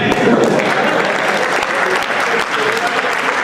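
Loud, dense applause from a crowd at a live Hindi comedic poetry (hasya kavita) performance, sustained evenly from start to finish without a pause.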